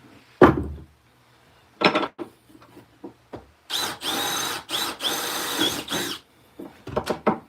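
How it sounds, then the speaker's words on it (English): Bursts of a power drill biting into a wooden handle being turned, a few short spurts then a longer run of grinding pulses, close and loud with quiet gaps. "So let's drill a hole."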